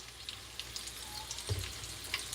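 Food frying in plenty of olive oil in a skillet, giving a soft continuous sizzle with scattered small pops and crackles, quiet and close.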